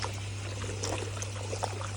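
Hot water pours and trickles into a container to mix a Fluke pond treatment, a steady close splashing over a low hum.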